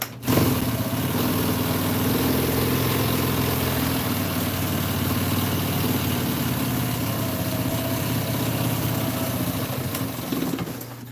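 A sewing machine runs steadily at close range, stitching a custom-fitted dog item with a continuous mechanical hum and rapid needle chatter for about ten seconds, alone, without talk.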